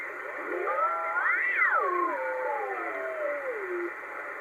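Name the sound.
upper sideband radio transmissions on CB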